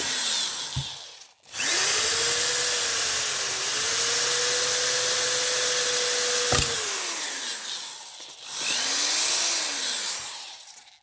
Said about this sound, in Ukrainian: Я свердлю дирку.